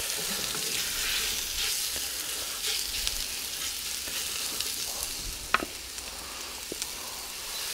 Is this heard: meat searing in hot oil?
yes